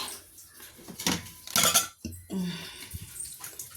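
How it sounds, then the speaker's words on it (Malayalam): A blender jar being picked up in a home kitchen while making mango juice, a few close hard clatters and knocks of the jar against other kitchenware, loudest in a brief burst midway. "Okay, ജാറെടുത്തു guys."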